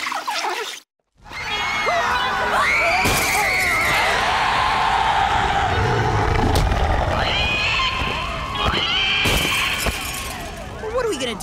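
Dense, continuous crowd commotion fills a cartoon scene, with overlapping shouting voices, crashing and shattering noises, and a horse-like whinny mixed in, staying loud throughout after a brief silent gap near the start.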